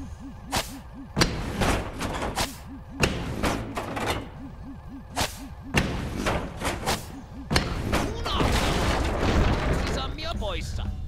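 Explosive arrows bursting in Sly 4: Thieves in Time, a string of heavy booms and thuds spread irregularly across the stretch, loud and close, with game music and someone talking between them.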